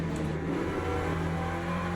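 A GT3 race car engine in the Le Mans Ultimate racing simulator drones steadily at a constant pitch under light throttle. It is loud and close, with no voices.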